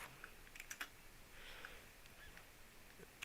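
Someone types a long password on a computer keyboard in a quiet room, giving faint scattered clicks and taps with uneven pauses between them.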